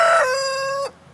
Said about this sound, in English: the rooster can be kind of loud